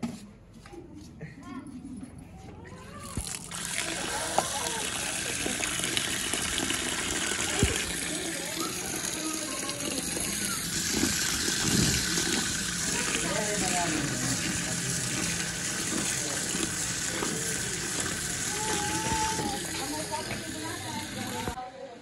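Tap water runs steadily during washing in a home kitchen, a continuous gushing hiss for most of the stretch, with people talking over it throughout.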